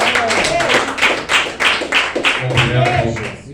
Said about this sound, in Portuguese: Recebendo o servo de Deus, com as fortes palmas para Jesus.